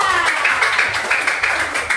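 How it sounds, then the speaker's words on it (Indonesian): A school class claps hands together after a lesson, a dense, steady patter of many small hands close by, lasting about two seconds without talk. "Oke, tepuk tangan buat kelas kita."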